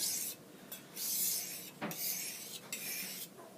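A knife blade is drawn across a sharpener to take the burr off the edge, making close, short raspy scraping strokes in a quick repeated rhythm.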